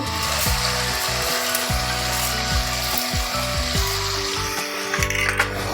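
Brinjal bahar masala being sautéed in a pan, a continuous loud sizzle with scraping strokes from stirring throughout.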